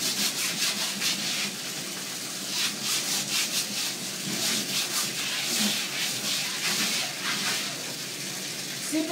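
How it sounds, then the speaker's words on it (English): A scrubbing brush used with hot water scrubs a bathroom surface in quick, repeated back-and-forth strokes, giving a close, steady, rough rubbing sound with no talk. "I'm going to take my scrubbing brush"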